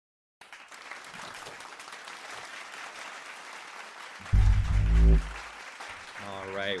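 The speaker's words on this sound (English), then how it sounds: "Let's give him a round of applause," An audience claps for the host, a steady wash of applause and cheering that holds for several seconds, while someone speaks loudly over it briefly near the end.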